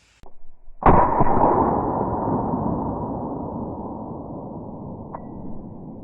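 A Kel-Tec Sub 2000 carbine fires a single loud, sharp shot after a couple of faint clicks, its boom rolling away in a long, fading echo outdoors.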